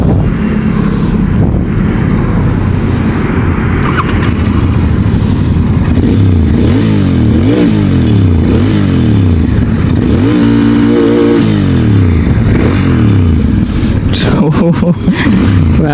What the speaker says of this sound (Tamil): வேறு மாதிரி எக்ஸாஸ்ட் நோட்டுங்க.